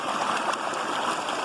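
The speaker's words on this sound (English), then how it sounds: "then I just let the water flow take all the material off" Water streams steadily over a sluice trap, washing material off it during small-scale mining in Vermont, a close continuous gurgling rush with no talk.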